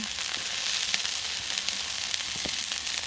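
Firecracker chicken dumplings frying on a Blackstone griddle give off a steady, close, bright sizzle with scattered small pops and crackles throughout.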